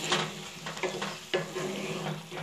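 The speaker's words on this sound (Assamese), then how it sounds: "পিঁয়াজ আর বিলাহীখিন ভাজ খাইছে। এতিয়া তাত" Onion and tomato fry with spices in oil for a banana kofta curry, a steady close sizzle broken by several sharp scraping stirs of a spoon against the pan.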